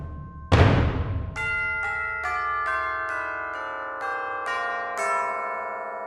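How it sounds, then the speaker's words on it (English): Tubular bells from Toontrack Orchestral Percussion SDX ring out in a series of about eight separate strikes at varied pitches, each bright, metallic and long-sustaining, after a sharp opening hit. "And some tubular bells."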